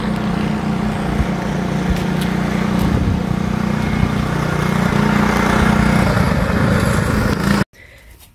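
A 1977 Honda Odyssey FL250 engine drones steadily while driving, a loud, continuous buzzing rumble that rises slightly before cutting off abruptly near the end.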